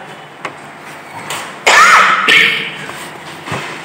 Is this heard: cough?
yes